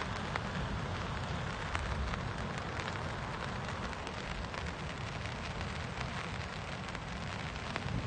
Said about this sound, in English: Hope you can hear the pleasant rain falling on the umbrella.